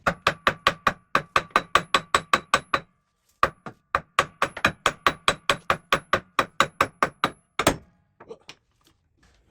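Heavy hammer blows hammered against the wheel hub of a Bobcat 753 skid steer with worn-out bearings, a long steady series of sharp metallic strikes in quick rhythm, a short pause, then another run ending in a louder final hit.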